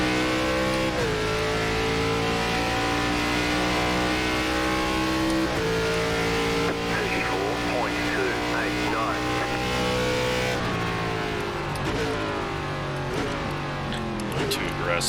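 An ARCA Series stock car in iRacing on the Indianapolis road course roars loudly and continuously, its pitch stepping down several times as it downshifts under braking. A commentating voice runs over it.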